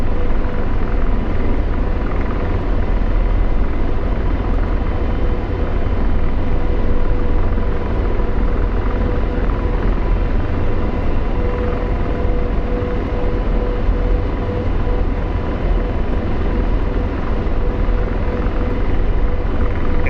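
AH-64D Apache helicopter in flight within a VR game, a loud, constant rotor and turbine drone with a low thrumming beat that stays steady from start to finish.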